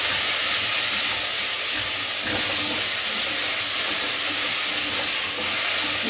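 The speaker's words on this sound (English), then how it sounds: "What we're doing, rather noisily, is just improving the flavour of the vegetables. If you fry them a little bit" Carrots and other vegetables for tomato soup frying noisily in a pan, a loud steady hiss and sizzle throughout with no talking.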